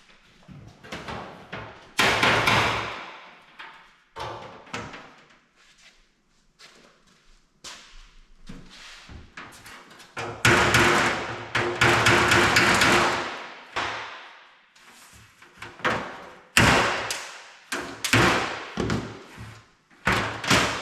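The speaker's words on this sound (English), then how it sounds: "let's take the last of these rivets out now" Repeated sharp metallic strikes of a small hammer knock rivets out of a Kenworth K100 truck cab, arriving in irregular bursts with short pauses between, close and loud.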